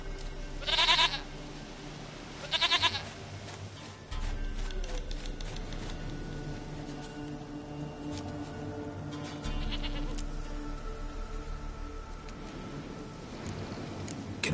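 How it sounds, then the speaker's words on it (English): Goat bleats from The Witcher 3, two loud, wavering cries near the start over steady game music and ambience, with fainter bleat-like sounds later in the mix. "Goat of mine, dearest, sweetest goat."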